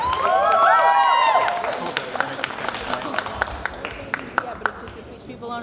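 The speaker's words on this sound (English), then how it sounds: "please give them a round of applause as they go up to stage." Audience applause at a student union hustings as candidates walk up to the stage, beginning over a loud swell of crowd noise and cheering, then thinning into scattered, sharper claps.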